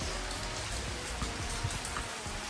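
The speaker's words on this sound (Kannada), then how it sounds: "ಮಳೆ ಬೀಳ್ತಾನೇ ಇದೆ." Steady rain falls outside a homestay in Chikmagalur, a soft continuous patter close by with no voices.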